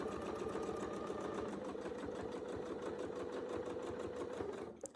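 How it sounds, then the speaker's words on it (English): Sewing machine stitching across a quilt template, a fast steady mechanical rattle of the needle running continuously at close range, stopping abruptly at the end. "you're just going to sew across"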